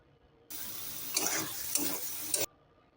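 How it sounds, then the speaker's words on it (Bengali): Peanuts stirred into red amaranth greens frying in a pan make a close scraping stir with soft sizzling, in a short two-second burst with a few clinks of the utensil against the pan. "বাদাম দিয়ে ভালো করে নাড়িয়ে নেব, যাতে বাদামটা শাকের সাথে মিশে যায় সুন্দর করে।"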